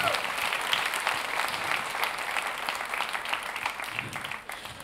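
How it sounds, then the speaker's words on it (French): A live audience applauds steadily for about five seconds, a dense, even wash of many hands clapping close by that thins slightly at the end. "On applaudit José un peu."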